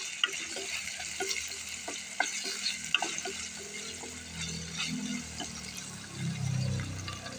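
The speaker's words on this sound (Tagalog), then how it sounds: "Sagisa lang natin, guys. Kaya natin madurog yung kamatis." Tomatoes sizzle softly in a pan for squid adobo, with a steady low frying hiss, occasional stirring clinks and scrapes, and a fuller sizzle building toward the end.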